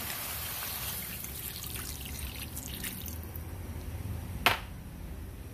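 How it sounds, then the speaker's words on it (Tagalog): A glass of water poured into a pot of pork ribs gives a steady trickling, splashing pour, fairly close and moderately loud, ending with a single sharp knock near the end. "Tapos lagyan natin siya ng isang basong tubig."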